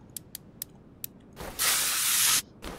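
A long burst of spray hisses loudly for about a second in Car Mechanic Simulator 2021, following several sharp mechanical clicks and ratchet ticks, with another short hiss at the end.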